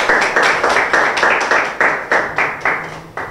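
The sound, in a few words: audience applause for a rapper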